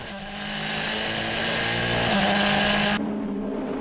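Ligier prototype race cars in a Proto endurance race at Estoril, engines roaring loudly and continuously as they pass, with a rising pitch and a shift partway through before the tone drops away near the end.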